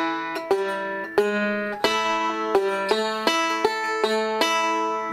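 A solo banjo picks rapid rolling patterns, steady and crisp, with notes that slide up into place between clusters of plucks.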